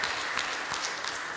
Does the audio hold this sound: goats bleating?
no